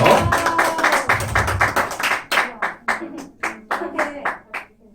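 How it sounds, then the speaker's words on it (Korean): Children at an elementary Sunday school clap together in a fast, loud burst that thins into a scattered run of separate claps, with a voice heard near the start. "박수 나오세요"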